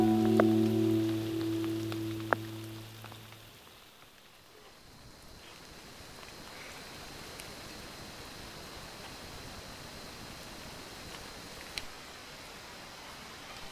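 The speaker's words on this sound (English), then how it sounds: "the sounds of heavy rain pelting off the fly" Steady heavy rain drums on a tent fly at Cat Lake in the wilderness, a constant dense hiss, after a brief tonal sound at the start fades away.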